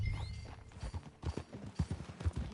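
Horse hooves clip-clop in a steady walking rhythm while riding in the game Red Dead Redemption 2, fairly soft, with a faint whinny near the start and no voices.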